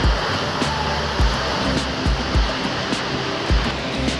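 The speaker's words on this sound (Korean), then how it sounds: "가까이서 보니까 소리도 엄청 크고 생각했던 것보다 훨씬 장엄해요" The Düden waterfall pours straight into the Mediterranean Sea with a loud, continuous roar of rushing water heard up close, and the crash of surf rises and falls at irregular moments.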